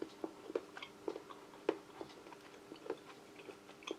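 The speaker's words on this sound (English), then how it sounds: "Very crunchy chocolate." Firm, crunchy 70% cocoa dark chocolate from a French military ration pack being chewed, giving a soft, close sequence of irregular crisp crunches and bites spread over a few seconds with no talking.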